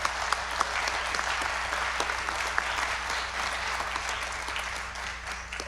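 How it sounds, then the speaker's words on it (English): Audience applause at a 2016 candidates forum, a steady wash of many hands clapping for nearly six seconds, moderately loud and even, with a low hum underneath and no talking. "So if you would please give them a big round of applause"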